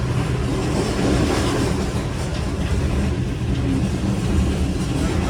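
Shalimar Express running on rails between Lahore and Karachi, a steady loud rumble and rattle of carriages with faint clickety-clack, continuous throughout, no talk.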